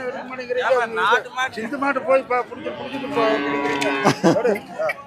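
Cattle at the Kundadam cattle market near Kangayam low and moo repeatedly, close by and loud, amid the chatter and voices of the market crowd.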